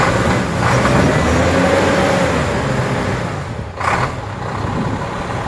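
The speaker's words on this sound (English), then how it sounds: "It's a diesel." A diesel truck engine runs close by, a loud, rough, continuous rumble with a brief dip partway through before it settles back to a steady idle.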